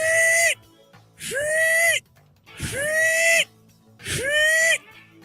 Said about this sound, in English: That is the sound of the bandy whistle.